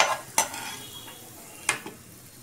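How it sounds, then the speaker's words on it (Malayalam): Sliced onions frying in oil for a Kerala-style ginger curry, a soft sizzle broken by two sharp metallic scrapes of a ladle against the pan as they are stirred and scooped, close and quiet between strokes. "ഈ ഉള്ളി ഇങ്ങനെ വറുത്ത് കോരണം"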